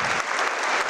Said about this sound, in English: So please a round of applause for Sharon Conheady.